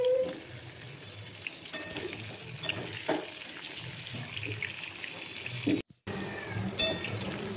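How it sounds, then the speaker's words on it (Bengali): Pieces of pointed gourd (potol), cut in halves, fry in turmeric-tinged oil left from frying fish, giving a steady close sizzle with occasional utensil clicks and a brief break near the end. "তো পটলটাও লাল লাল করে ভালো করে ভেজে নেব।"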